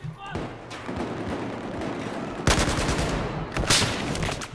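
Rifle shots in a Battlefield 4 team deathmatch on PC, two sharp reports about a second apart standing out over a steady bed of distant battle gunfire, with a player talking throughout.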